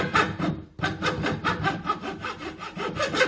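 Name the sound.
sanding oiled wood with fine sandpaper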